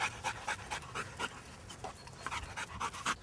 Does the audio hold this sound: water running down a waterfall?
no